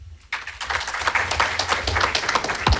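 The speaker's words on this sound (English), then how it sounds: "Please give him another round of applause." Dense clapping starts abruptly and continues steadily at close range, a crowd applauding without pause at an annual general meeting.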